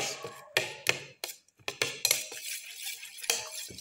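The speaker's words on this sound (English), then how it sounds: "Mix in the ginger pieces" Ginger pieces mixed into an omelette egg mixture in a bowl, with close, sharp clinks and scrapes of a utensil against the dish in quick irregular strokes and brief pauses.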